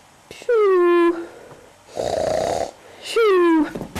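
A person imitates snoring with the voice: two drawn-out, groaning nasal snore sounds that fall in pitch, separated by a raspy, breathy exhale, loud and close.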